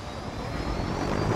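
A helicopter in the video game Just Cause 3 flies past with a steady, loud rotor and engine drone that swells slightly toward the end, with no talking over it.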